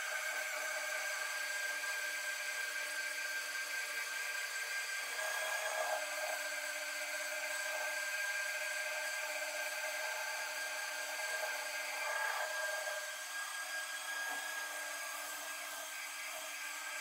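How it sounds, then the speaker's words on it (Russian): Steady machine sanding of an Audi A6 C6 car door with 3M Cubitron P120 abrasive, a continuous even whine and hiss running unbroken throughout at moderate level, with no voices. "Вот, шлифовать буду кубитон, абразив"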